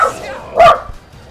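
A pet dog gives a single short, close bark indoors after the wind knocks the letterbox on the door, a brief sharp yelp over a quiet room.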